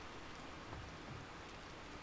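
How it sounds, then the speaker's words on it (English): Steady rain in a video game, a constant faint hiss of falling drops with no pauses or voices over it. "Unfortunately it is raining"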